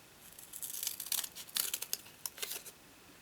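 Scissors cut through card stock for a dual pop-up card, making a quiet cluster of crisp snips and crinkles at close range.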